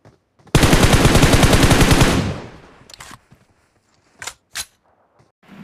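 Automatic gunfire in BGMI, a loud rapid burst of shots lasting over a second and fading into a tail, followed by a few scattered sharp single cracks and clicks.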